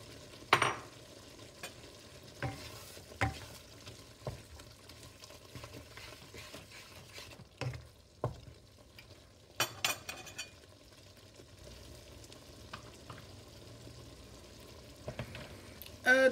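Seafood cooking in a pan in spicy bulgogi sauce with oyster sauce and spring onions, stirred with a utensil: quiet simmering under scattered scrapes and clacks, plus a few louder knocks of the utensil against the pan.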